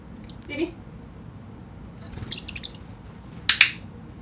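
A pet bird flying free indoors gives a few short, sharp chirps at intervals, the last pair louder and close, while a person speaks softly in between.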